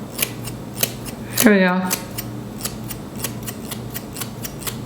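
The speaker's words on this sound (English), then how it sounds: "I'm just gonna cut off like an inch. These are thinning shears." Thinning shears snipping the hair of a half wig, a row of sharp, evenly spaced metallic clicks running through the whole stretch, close and clear, with a brief spoken phrase partway through.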